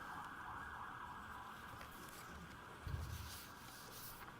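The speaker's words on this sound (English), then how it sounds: "if I could just hold on 1 minute while the sirens pass." Emergency vehicle sirens passing outside a courtroom during a murder trial, a faint distant wail heard through the building's hum, with a brief low bump partway through.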